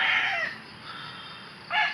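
A gamecock rooster crows in two bursts, one at the start and one at the end, with a quieter stretch between them. The calls are fairly near and clear, and no one speaks.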